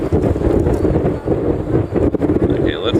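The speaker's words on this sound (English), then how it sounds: "this is gonna be a windy, wobbly one today." Strong wind buffets an outdoor microphone at a plane-spotting spot in Honolulu, a loud continuous rumbling roar throughout, with faint speech underneath.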